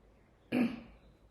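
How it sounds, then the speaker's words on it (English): A single short cough, close and fairly loud, then quiet. "Sorry for the coughing."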